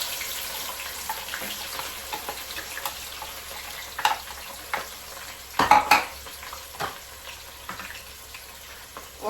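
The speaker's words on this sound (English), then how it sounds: "in here I have my red oil, and I want to go in with the chopped onion" Chopped onion fries in red palm oil, a constant faint sizzle broken by scattered utensil scrapes and a louder clatter of stirring near the middle.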